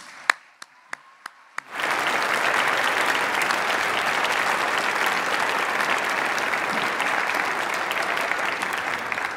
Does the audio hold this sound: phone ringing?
no